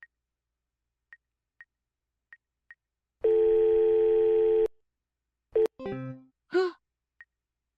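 A telephone call ringing tone: a run of faint, evenly spaced beeps, then a louder steady tone lasting over a second, followed by short bursts and a sigh-like voice sound.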